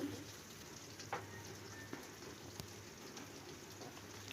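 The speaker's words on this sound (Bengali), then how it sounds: "টমেটো আর পেঁয়াজ একসাথে ভাজবো" Onion and tomato fry in a pan with salt and turmeric, giving a steady, soft crackling sizzle throughout, with a few faint spoon or utensil taps. No one speaks.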